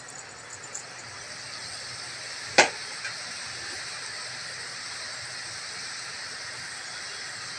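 Small pieces of cheeseling dough frying in hot oil give an even, constant hiss with one sharp click partway through, heard alone.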